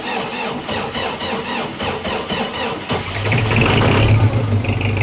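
A diesel tractor engine is started in frost: first a strained cranking churn, then it catches and settles into a loud, rough idle close by.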